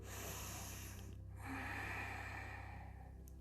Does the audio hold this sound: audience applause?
no